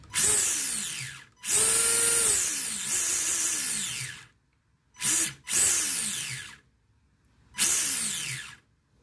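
A small electric motor in a Losi 22S 2wd short course RC truck whines up to a high pitch at full throttle in several bursts, revving and cutting off with silent gaps between, loud and close.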